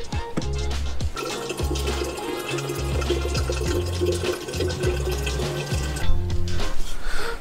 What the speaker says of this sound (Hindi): ये सब ड्रिंकेबल वाटर है जो ऊपर से आ रहा है ग्लेशियर से पिघल के इस पहाड़ के ऊपर से।